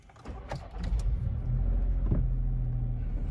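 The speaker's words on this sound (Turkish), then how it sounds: "Arabayı da bir çalıştıralım." A Seat Ibiza 1.6 TDI diesel engine is started, with a few clicks and a brief cranking burst before it settles into a steady, low, close idle rumble.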